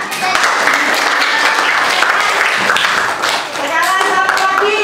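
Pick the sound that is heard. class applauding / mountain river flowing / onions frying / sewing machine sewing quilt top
class applauding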